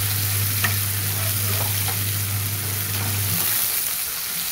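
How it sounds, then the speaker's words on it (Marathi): Tender spring onions and their greens fry in oil with a loud, continuous close sizzle and crackle. A low hum sits under the frying for most of the stretch, then drops away near the end. "कोवळे कांदे मी पात दोन्ही टाकून घेते. त्याचं चांगलं परतून घेते."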